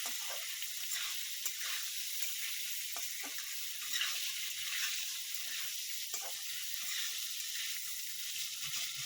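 Steady bright sizzling of moringa drumsticks frying in oil with occasional stirring clatters, fairly quiet and continuous, no voices.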